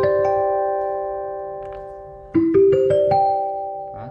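Roland HPi-6 digital piano plays an electric piano tone: a sustained chord rings and fades, then a few bright notes and a new chord strike with a soft bell-like attack, played alone.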